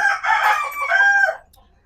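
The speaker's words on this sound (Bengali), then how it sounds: "এ পাশে দেশি মুরগি আছে" A rooster crows once at a chicken coop of native chickens, close and loud, a drawn-out call that cuts off abruptly, followed by quiet.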